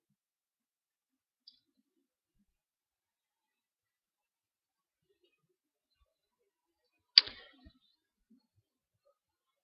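A single sharp computer mouse click while selecting OK in Microsoft Access, preceded by a faint tick in otherwise near silence.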